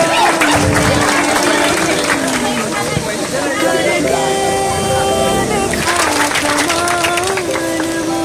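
Audience applause at a ceremony honoring students and their parents, dense clapping rising in two swells with a voice speaking over it and tonal music or sound underneath.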